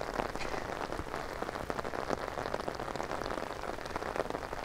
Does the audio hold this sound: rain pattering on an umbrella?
yes